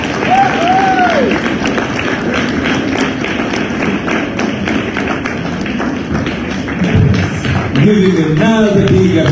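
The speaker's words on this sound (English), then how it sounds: "Giving another big applause." Audience applause at an outdoor political rally with a crowd, many hands clapping amid cheering and shouts, with loud voices and a bit of speech rising toward the end.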